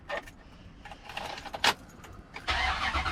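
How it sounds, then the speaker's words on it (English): A 2003 Dodge Ram 1500 pickup engine is started up close: brief clicks and a crank burst, then the engine catches and runs with a louder, steady rumble. "you're gonna start the truck."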